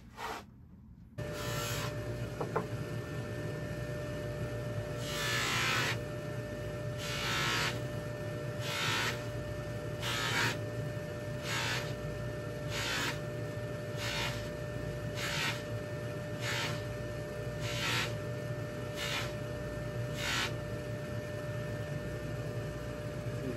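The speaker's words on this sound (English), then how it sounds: "next I'm going to go ahead and start polishing here so you can see." A motorized polishing wheel hums steadily while silver jewelry is pressed against it, with a rhythmic series of brief rubbing swishes recurring about once a second over the drone, close and without speech.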